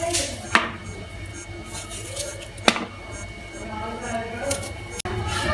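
A knife slices potatoes on a cutting board, giving a few sharp, separate chops spread across the moment while someone talks throughout.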